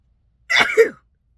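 A single short, sharp sneeze, close and loud, bursting out of silence and ending abruptly.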